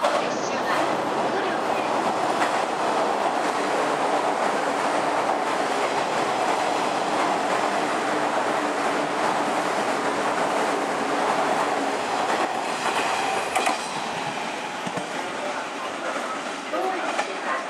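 A train rolls into Totsuka station on the JR Tokaido Line with rhythmic clickety-clack of wheels and a steady rumble, while a Japanese station announcement voice plays throughout.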